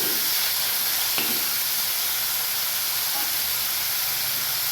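Onion and chopped tomatoes frying in a pan give a steady, dense sizzle and hiss throughout, with a faint clink near the start and no talk.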